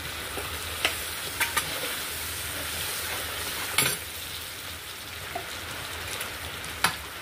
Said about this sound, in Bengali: কুচিয়ে রাখা পেঁয়াজটা দিয়ে আমি হালকা করে ভেজে নেব।